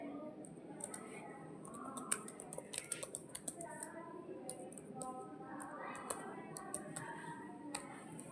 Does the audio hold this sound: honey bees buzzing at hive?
no